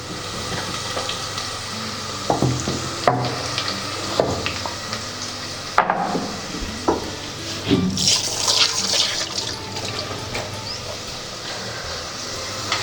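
Ginger garlic paste hits the pan of tomato biryani and sizzles steadily while a spoon scrapes and stirs in irregular strokes, fairly loud and close.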